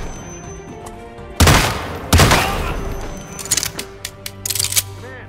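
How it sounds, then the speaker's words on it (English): Gunfire in the Hitman video game: two loud, sharp bursts of shots, each trailing off, followed by a spattering of quicker, lighter shots and clicks, with no talking. "Man, somebody's firing a weapon."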